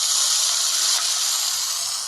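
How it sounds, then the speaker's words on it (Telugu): The Coca-Cola edition Realme 10 Pro phone plays a notification sound of a cola bottle fizzing: a steady bright hiss of bubbles that lasts about two seconds, clear and close. "మనం ఇట్లా బాటిల్ ఇట్లా ఓపెన్ చేస్తే మూత ఎలా పొంగుతుందో అట్లా సౌండ్ అనమాట."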